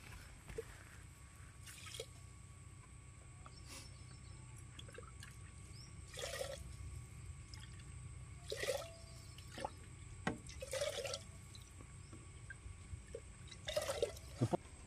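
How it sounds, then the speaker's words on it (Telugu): Water poured into a pot to make sugar syrup for crispy khaja: quiet splashing and trickling in a few separate bursts over a low steady background hum. "5 గ్లాసుల నీళ్ళు అయితే పోసేసుకుందాం."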